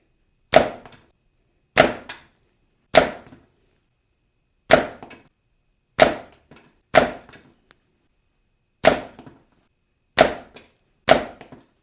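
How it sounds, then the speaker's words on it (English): Nine sharp, crisp snaps ring out one by one at roughly one-second intervals as an Omega slingshot with electric white latex bands fires shots into a catch box in a quiet garage, each crack dying away quickly into silence. "Not shooting at a target, I'm just shooting into the catch box."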